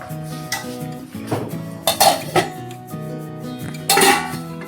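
Metal clanks and clinks of a pot and lid being handled while making egg curry on the stove, several sharp knocks in an irregular rhythm over a faint ringing hum, with no voices.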